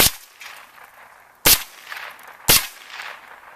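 Three sharp, loud gunshots ring out about a second apart at a propane bottle, each a hard metallic crack with a brief clanging ring and short decay, outdoors at close range.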